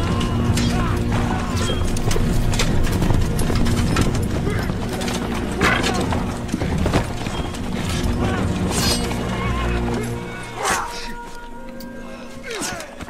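Horses galloping in a historical film about Kazakh fighters battling the Dzungars, with dense, rapid hoofbeats and clattering impacts blended into a busy film soundtrack that thins out toward the end.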